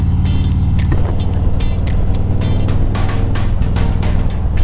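A Harley-Davidson motorcycle engine rumbles steadily while cruising on a road, a loud, continuous low throb with wind noise, close up and with no talking.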